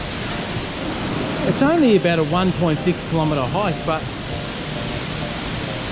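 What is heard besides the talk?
Gorge Falls waterfall rushing in Tallebudgera Valley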